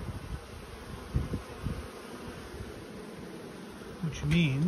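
Honey bees buzz softly around an opened hive amid faint rustling, and a louder, wavering drone rises near the end as a bee passes close.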